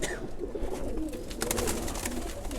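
Two makra pigeons cooing softly inside a cage, low repeated coos over a steady background hiss and rustle, close by with no talk.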